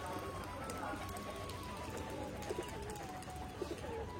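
Pigeons outdoors, a flying pigeon still growing its wing feathers, with a low steady background of bird sounds and a few soft coo-like calls. Someone speaks quietly throughout.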